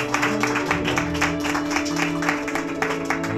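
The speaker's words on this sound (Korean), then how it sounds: "박수 한번 크게 부탁드리겠습니다" Rhythmic clapping from a group of guests at a Korean first-birthday party, fairly loud, over a sustained musical backdrop with steady tones underneath.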